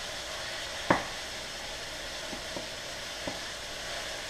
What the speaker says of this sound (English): We're going to fry it in this oil for about 10 minutes.